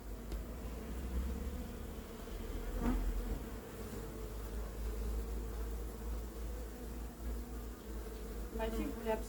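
A swarm of honeybees recovered in Thiais hums steadily around a hive, a close, continuous buzzing drone that holds level throughout, with a faint voice briefly audible beneath it.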